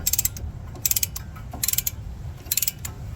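A front brake caliper piston on a Honda CR-V being slowly compressed back in with a tool, heard as short bursts of rapid ratcheting clicks repeating about every second, close and fairly crisp.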